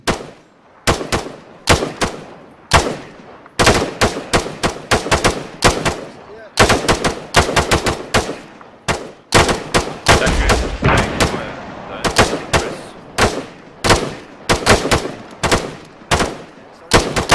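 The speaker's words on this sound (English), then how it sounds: "fire on targets. You may open fire" Rifle fire on a weapons training range as shooters engage targets, loud sharp shots coming in rapid bursts and quick single cracks throughout, with brief pauses between strings.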